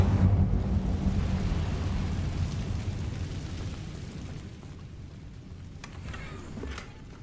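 The Incendio fire spell in Hogwarts Legacy is cast, releasing a loud, deep roaring burst that rumbles like thunder and slowly fades over several seconds, with no voices.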